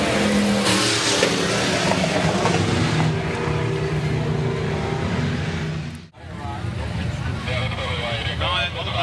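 B-Modified dirt track race cars roar around the oval at Rapid Speedway, loud continuous engine noise with revving swells and a brief dip, crowd or announcer voice faintly mixed in.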